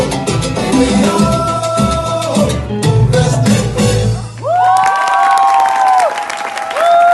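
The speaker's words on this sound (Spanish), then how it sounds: "Y volvemos a sentir el aplauso" A crowd at a salsa dance show in Vicenza claps and cheers loudly with whistles and shouts, while bright electronic tones sweep in and out over the noise.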